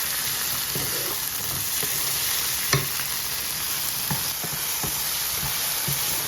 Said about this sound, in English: I added half an onion, some cherry tomatoes, pimento, weary pepper, garlic, and ginger, and sauteing this in oil